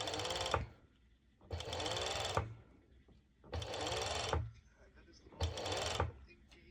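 A sewing machine stitches mesh fabric in four separate bursts, each running about a second, with quiet pauses between them. The motor whirs loud and close, and it runs at a slow, careful pace.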